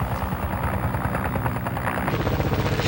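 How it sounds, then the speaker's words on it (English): U.S. Navy SH-3 Sea King ship-based anti-submarine helicopter, a loud, steady rotor thump and engine whine close by, continuous throughout. "The U.S. Navy's SH-3 Sea King is a ship-based ASW helicopter."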